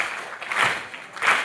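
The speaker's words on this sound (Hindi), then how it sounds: "उठाइए तालियां" An audience claps together in a short burst of applause. The clapping swells, dips briefly, then rises again toward the end, with no voices heard.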